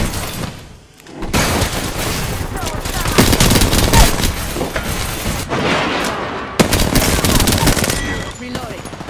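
Loud, dense video game gunfire rattles almost continuously in sustained automatic bursts with heavy booms, broken by a brief lull near the start.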